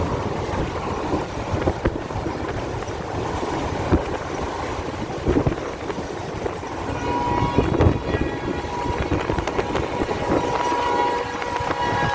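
A train rumbles past close by, a steady loud roar of wheels and carriages with clattering surges, no voices.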